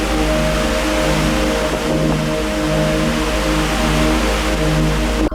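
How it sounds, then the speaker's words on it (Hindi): Water cascading down the stepped spillway of a dam near Satara pours in a constant, dense rush, with a low steady hum running beneath it. "सीढ़ियों से बहती पानी की मधुर आवाज दिल को"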